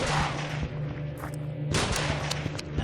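Shotgun blasts in the zombie game Dark Days, a few sharp booming shots over a dense, harsh background of game noise and a steady droning tone.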